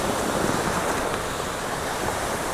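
A shallow stream of water pours across a mountain road on a ride toward Mailung Waterfall in Rasuwa, Nepal, giving a steady, close, broadband rushing wash with no voices.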